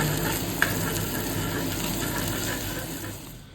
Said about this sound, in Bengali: দুটো ডিম দিয়ে তারপরে একটু আরও বেশি করে ভেজে নেব